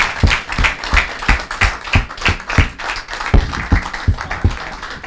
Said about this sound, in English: Let's give Jack a big round of applause.